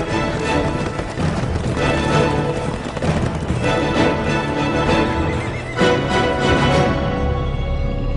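Horses neigh and whinny amid a dense, continuous backdrop of hoofbeats and herd noise, loud and busy throughout, with several sharper calls standing out over the din.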